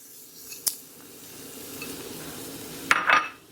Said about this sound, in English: into my big pot, we're going to start off with some garlic in here.